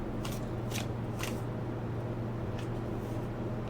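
A deck of cards is shuffled and a card drawn, giving a few quick crisp riffling flicks early on and softer ones later over a steady low background hum, no talking.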